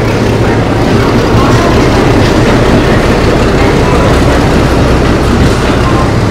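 Kulik Express passenger train pulling into a station platform, a steady, loud rolling rumble of wheels and carriages that fills the whole stretch without a break.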